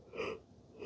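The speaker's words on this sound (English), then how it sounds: "And I'm gonna yawn." A person yawns once, a soft breathy intake lasting under a second, close and fairly quiet with no speech.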